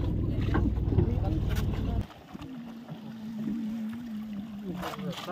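A fishing boat's low motor drones steadily on the water, loud at first and then quieter and farther off, with wind noise buffeting the microphone.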